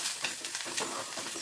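Spiced food with chilli powder and salt is stirred and mixed in a sizzling pan, a close scraping and frying hiss with small clatters, steady and moderately quiet, with no talk.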